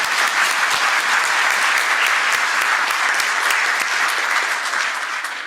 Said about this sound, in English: So we wish a round of applause for Lord Mayor